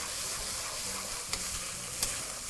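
Minced meat stirred in a hot frying pan: continuous close sizzling with a couple of sharp scrapes of the utensil against the pan.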